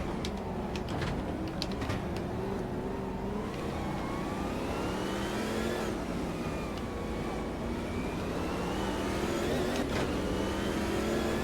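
Car engine heard from inside while driving, rising and falling revs as the driver accelerates through gears, a steady close drone with whooshing road noise and no talk.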